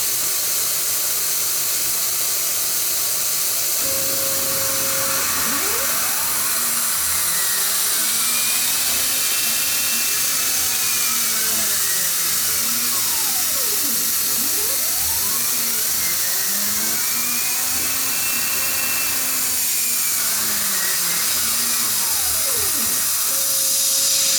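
Compressed air blows steadily onto the workpiece during laser cutting, a constant loud hiss with an underlying whine, close by and without speech.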